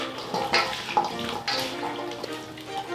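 Tap water runs into a kitchen sink while a spoon and small whisk are rinsed during chicken marinade preparation, a steady splashing stream with a few soft clinks, fairly close.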